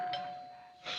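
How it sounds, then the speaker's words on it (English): A doorbell in a 1970s television sitcom scene sounds as a single sustained electronic tone, close and fairly loud, with a brief brighter chime at the start and again near the end. "there it is, Lou, the bell."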